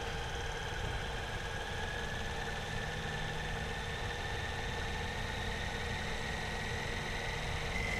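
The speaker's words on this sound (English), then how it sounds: "Now your autospin is ramping up to 2800 RPMs" A Magellan TruPRP centrifuge ramps up on autospin to 2800 RPM, producing a faint, steady whirring hum with a constant mechanical drone and no breaks.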